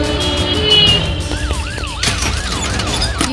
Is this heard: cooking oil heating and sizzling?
no